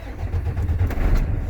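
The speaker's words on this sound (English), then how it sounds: "Now I start the engine." A Class 1 truck engine starts during a pre-trip inspection and settles into a deep, steady rumble, close and fairly loud.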